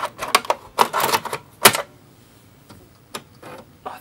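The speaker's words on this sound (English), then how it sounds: "Oh, the A500 disc drive just sounds different." Amiga 500 floppy drive loading a Workbench disk: a string of sharp mechanical clicks and chattering seek bursts, loud in the first two seconds, then sparser ticks at a distance, no talk.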